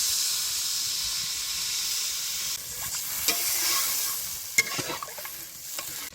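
A steady, hissing sizzle comes from fried masala for a snakehead (shol) fish curry, then water goes in and the sound turns to bubbling steam. Close stirring scrapes and clinks continue over it.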